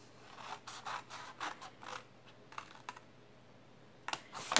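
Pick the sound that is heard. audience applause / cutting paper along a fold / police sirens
cutting paper along a fold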